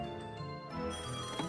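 An old-style telephone bell rings in the puzzle game ROOMS: The Toymaker's Mansion, a continuous bright metallic trill, clear and alone with no talking.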